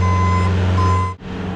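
Steady reversing beeps from a Bobcat skid loader plowing snow, loud and close over a constant engine drone, cutting off abruptly near the end.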